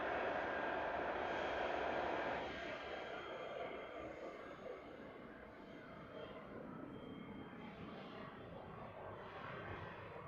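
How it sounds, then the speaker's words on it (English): Jetstar and Qantas airliners departing Christchurch Airport at sunrise on Anzac Day, giving a faint, distant broadband roar that swells early on and then fades to a steady far-off rumble. "We'll just enjoy the noise of these departures this morning."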